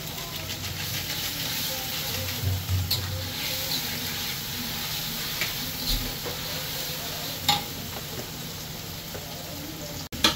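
Chicken masala with roast spice mix fries and bubbles in a pan, a continuous near sizzle and steamy hiss with occasional stirring knocks and a sharp clatter near the end.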